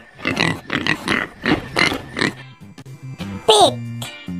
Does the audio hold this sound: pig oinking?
yes